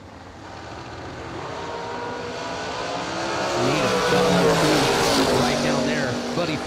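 A dragster roars down the strip on a time trial pass at a drag racing shootout, a steady loud engine rush that swells and peaks midway, heard from some distance along the track.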